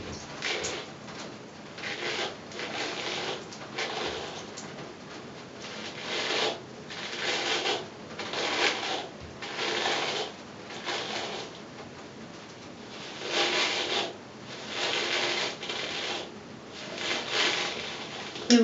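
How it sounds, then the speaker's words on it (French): A brush drawn gently through fragile hair during a deep shampoo care session, giving repeated soft rubbing strokes in a steady rhythm, close and fairly loud with no talk. "Alors là, je vais passer un tout petit peu la brosse."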